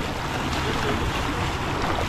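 A strong water current pours over an old dam in Taiwan, filling the air with a dense, continuous rushing roar close by.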